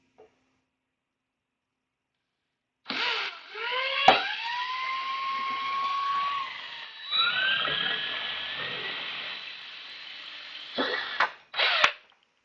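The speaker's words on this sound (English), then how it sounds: "I'm going to drill from this side so I don't get any dust and debris into our kit" A power drill whines at high speed in two long runs, drilling through an outdoor equipment enclosure, its pitch climbing as it spins up, then ends with a couple of short bursts.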